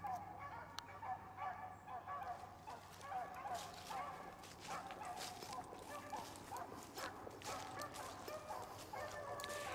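Beagles bay and yelp in the distance while running a rabbit on a hunt, a faint, continuous overlapping chorus of barks and howls.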